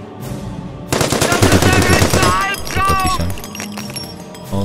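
Rapid machine-gun bursts and rattling gunfire in a Company of Heroes modern-combat infantry battle, loud and close, with a voice talking over the shooting.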